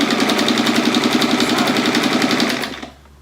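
Sewing machine stitching quilt pieces, a loud close rapid rhythmic whirring chatter running steadily for nearly three seconds before stopping abruptly.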